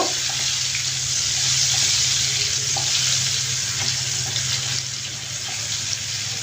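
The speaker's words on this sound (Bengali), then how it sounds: "এখন দিয়ে দিচ্ছি একটা পেঁয়াজ কুচি এটাকে নেড়ে ফেলে আমি ভেজে নিব" Chopped onion fries in a pan for a Bengali-style egg curry, giving a steady, close sizzle with faint stirring scrapes and no talking.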